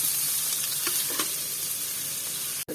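Curry leaves sizzle and crackle in a hot pan, a steady close frying hiss with a few sharper pops, ending in a brief clatter.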